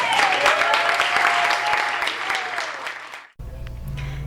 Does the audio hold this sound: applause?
yes